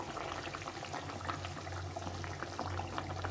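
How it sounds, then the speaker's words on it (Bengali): Fish curry gravy at a rolling boil in a pan, a dense continuous bubbling and popping with a low steady hum beneath, close and even throughout, no voices. "ঝোলটা ফুটে গেছে, এখন আমি মাছগুলো দিয়ে দেবো।"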